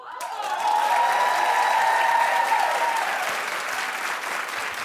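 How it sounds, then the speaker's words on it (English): Studio audience applause at a daytime talk show, a dense sustained wall of clapping that starts abruptly, swells within the first second and carries on loudly for about five seconds without fading out. "keep clapping for Paula Abdul."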